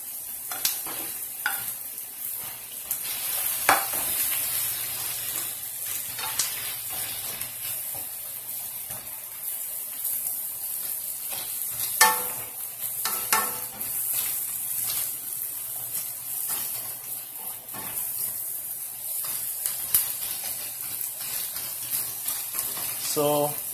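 Ampalaya with meat and tomatoes stir-fried in a pan: a steady bright sizzle with scattered clicks and scrapes of stirring, close by, and occasional faint background sounds.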